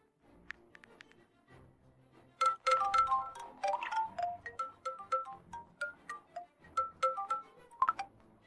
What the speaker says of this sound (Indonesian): Biar aku bantu telepon.